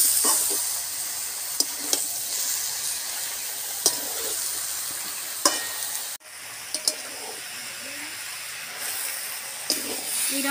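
Spinach chorchori fries in a pan while being stirred, a steady bright sizzle under periodic scraping of the spatula and occasional sharp clinks, with one brief dropout midway.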